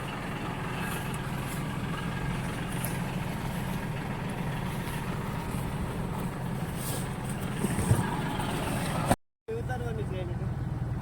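A tractor idles in a safflower field in Israel, a steady low engine rumble running close by under faint voices, with a brief cut near the end.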